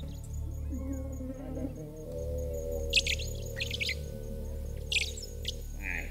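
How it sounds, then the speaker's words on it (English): Several Bourke's parrots give short, high chirping calls in bursts over a steady low hum at dusk in the Australian desert, fairly close, with brief gaps between calls. "No, they're Burke's parrots, looking for a place to sleep."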